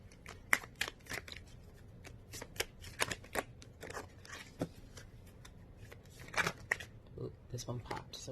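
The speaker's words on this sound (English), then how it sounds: "I'm just going to shuffle it once because I want to." A tarot card deck is shuffled by hand in a run of crisp riffling and snapping card bursts, close and fairly quiet, with pauses between them.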